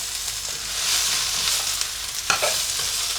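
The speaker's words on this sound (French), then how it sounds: "J'ajoute mes shiitake, je mélange. J'ajoute mes côtes de blette," Caramelised onions, shiitake mushrooms and chard stalks sizzle in a pan while being stirred, a bright close frying hiss with scraping strokes and a sharper clatter near the end, no talk.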